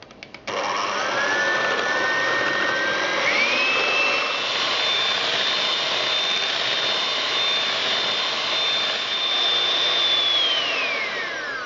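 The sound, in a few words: electric hand whisk whisking eggs and sugar for Swiss roll batter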